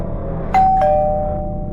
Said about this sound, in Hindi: मान्या ने आगे बढ़कर डोरबेल बजाई।